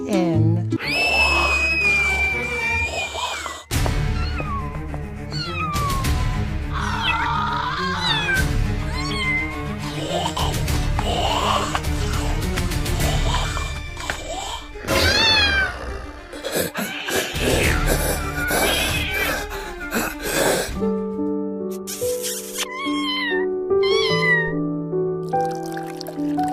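A kitten meows repeatedly in an animated cat story, with high plaintive cries scattered among music, sound effects and character voices, the mix loud and busy throughout.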